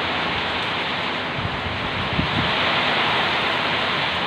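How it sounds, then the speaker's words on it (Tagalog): Strong typhoon wind roars steadily with heavy rain in a broad, dense rush, close and loud throughout with no voices. "grabe, sobrang lakas ng hangin no?"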